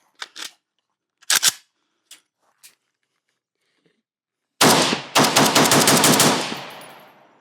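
Semi-automatic AK rifle fitted with a muzzle brake, heard as a few sharp spaced shots, then a brief pause and a loud rapid string of close, echoing shots.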